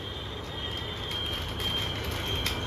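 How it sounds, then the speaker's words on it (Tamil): A toy train runs along its track, pushing through plants in its path, with a steady faint rolling hum and a thin high whine continuing throughout. "ட்ரெயின் இது செடி எல்லாம் தள்ளி விட்டு வருது."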